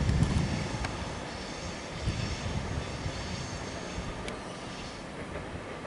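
An X'Trapolis suburban train on the Belgrave line rumbles past at East Richmond in Melbourne, a broad, steady roar with faint rattles that fades slightly as it goes, with no talking.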